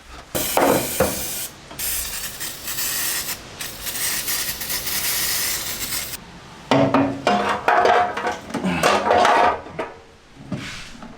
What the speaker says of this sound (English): I had some brake cleaner so I could clean this off